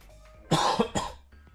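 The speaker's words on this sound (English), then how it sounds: "I'm gonna cough again, hold on." A single close, sharp cough in two or three quick bursts, followed by quiet.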